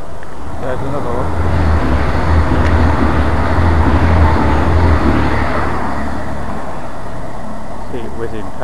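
A train rushes past Church Fenton station, a rural Yorkshire station, at speed, a steady loud roar of wheels and rumble holding for several seconds with a low hum throughout, while a person talks over it.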